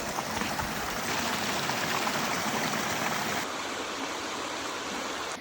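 Water flows steadily at a mountain watering spot, a continuous close rushing wash like a stream that stays loud and even throughout with no voices.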